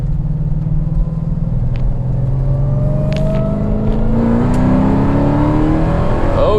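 A Hennessey HPE850 Hellcat pulls hard in a rolling acceleration, its engine note climbing steadily in pitch through a long continuous rev with deep rumble and wind, loud and close throughout, no talk.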